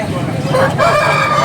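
A rooster crows nearby at a Sunday poultry market in Nellore, a single drawn-out call over a low, steady background rumble.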